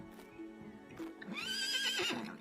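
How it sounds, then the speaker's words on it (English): A horse in the video game Lords and Villeins whinnies in a rising, wavering neigh, fairly faint, with a few soft thumps before it and no talking. "It's a horse."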